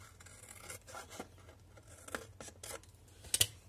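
Scissors snipping brown cardstock to size for a pop-up album, a few short close cuts spread across the moment, the last one sharper and louder, with no talking.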